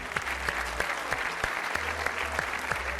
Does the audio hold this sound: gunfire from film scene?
no